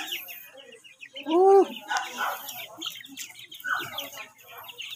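Rhode Island Red chickens in a brooding area cluck and call, with one loud rising squawk near the middle and softer clucks around it, while people talk in the background.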